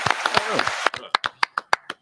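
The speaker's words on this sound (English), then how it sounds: "Let's clap it up." A few people clap on a talk show set, first mixed with voices and laughter, then a sparse run of single claps spaced out near the mic.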